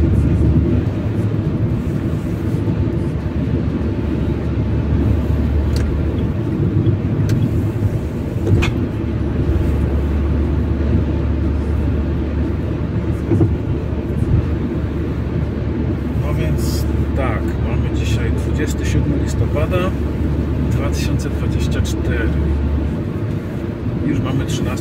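A car drives along a road, its engine and tyres making a steady low drone throughout, while someone talks over it.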